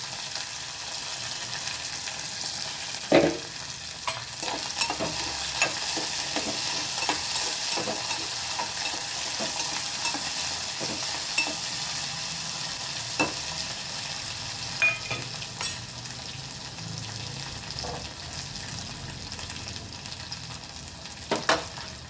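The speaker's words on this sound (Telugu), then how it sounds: "పచ్చిమిర్చితో పాటు దొండకాయ కూడా వేసుకోవాలి." Green chillies and ivy gourd sizzle steadily as they stir-fry in a pan. A constant hiss runs throughout, with scattered sharp pops and the occasional scrape of a stirring utensil, close by and at a moderate level.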